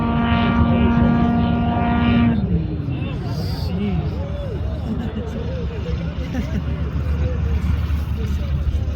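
A propeller aircraft at the Reno Air Races roars loudly with a steady droning engine tone that cuts off after a couple of seconds, leaving a broad rushing roar and crowd babble.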